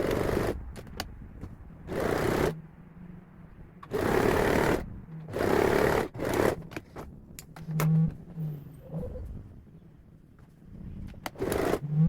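A sewing machine stitches down a folded t-shirt side seam with a hand-pressed fold, running in several bursts of rapid mechanical whirring separated by short pauses, close and clear with no talk.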